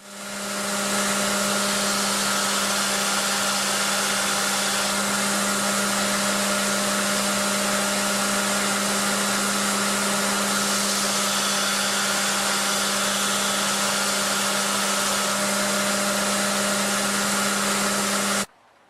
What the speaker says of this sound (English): this allows me to grind a little more aggressively after the blade has been hardened without ruining the temper